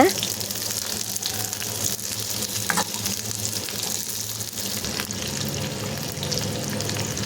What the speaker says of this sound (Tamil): போட்டுட்டு மிதமான சூட்டில் வச்சுட்டு நல்லா வதக்கி விட்டுருங்க